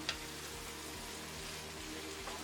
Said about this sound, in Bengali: এখন আমি এটা ভালো করে নেড়ে